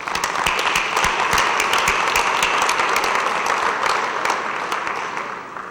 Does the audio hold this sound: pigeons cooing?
no